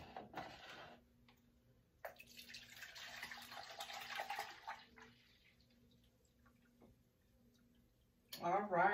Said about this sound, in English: So let's pour 4 cups of this cranberry juice.